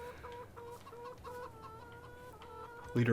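Chickens in the video game Farming Simulator 22 cluck softly and steadily in a quiet background, with a louder burst of noise at the very end.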